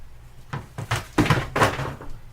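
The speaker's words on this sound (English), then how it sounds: "just knocked the lid off the garbage can" Garbage can lid knocked off in a kitchen, giving several hollow thunks and clattering knocks in quick succession, close and fairly loud.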